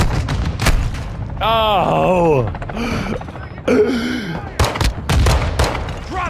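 Pistol gunfire in Call of Duty: a few sharp shots crack out amid game noise, with a voice exclaiming and talking over the action.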